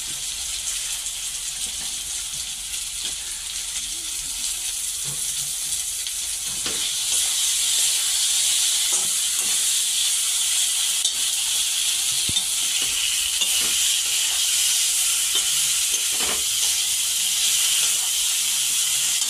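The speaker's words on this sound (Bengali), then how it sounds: "এই যে মাছ এখানে দিয়ে দেবো, মাছটার সাথে সাথে মশলাটাও এখানে ডুবে যাবে। এই যে ভাজা ভাজা হয়ে যাবে" Fish frying in a spice paste with oil, a steady close sizzling hiss that swells louder partway through and carries on continuously with faint small pops, no talking.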